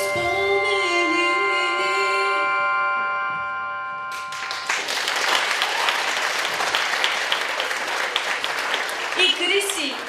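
Audience applause at a music show breaks out after a sustained sung ending, honoring a duet. It grows into dense, steady clapping from a crowd that lasts several seconds, with a voice briefly heard near the end.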